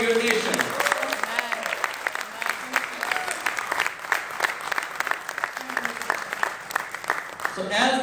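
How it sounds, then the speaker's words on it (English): Church congregation claps for their country and nation, sharp distinct claps forming a lively, uneven stream of applause, with a voice speaking over the beginning and a few voices near the end. "Let's clap for your country and for your nation."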